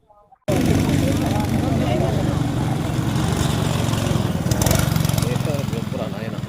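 A go-kart engine roars to life on an F7 karting track in Nellore, then runs loud and close with a steady buzzing drone that swells slightly near the end, with voices faintly under it.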